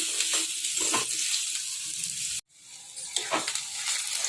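Onions frying in oil until red give off a steady, soft sizzle with faint stirring scrapes, broken by a brief silent gap midway.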